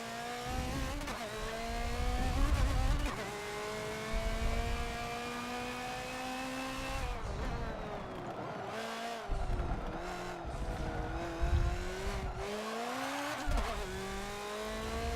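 A race car engine in the Forza video game revs and shifts through gears during an endurance race, loud and close with rising and falling pitch sweeps, and wheel spin when power comes on early.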